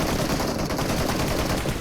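Rapid automatic gunfire crackles without a break through a dense, noisy firefight in the mobile battle royale game PUBG Mobile.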